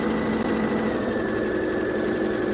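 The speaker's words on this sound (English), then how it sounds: "And sew, and make sure you sew all the way to the end." A sewing machine stitching quilt pieces for a queen-size pinwheel quilt, a steady close mechanical whir with a continuous humming drone and no pauses.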